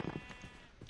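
A short, faint Minecraft sheep bleat with a synthetic, game-like quality, quiet and brief.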